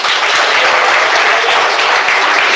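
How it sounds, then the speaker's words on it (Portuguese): A church congregation claps hands together in a dense, steady burst of applause, loud and close, with no talk over it. "Quem bate palmas?"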